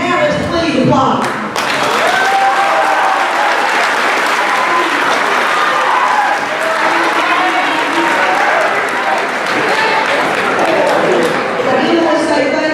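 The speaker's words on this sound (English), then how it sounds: "Now let's please applaud." A crowd at a high school athletic hall of fame banquet gives long, steady applause for award winners, with scattered cheers and voices mixed in throughout.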